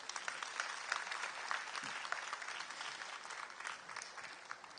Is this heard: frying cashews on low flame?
no